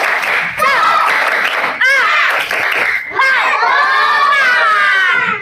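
A group of children performs a rhythmic spirit clap in a classroom, with loud claps mixed with shouted and chanted voices in bursts close by.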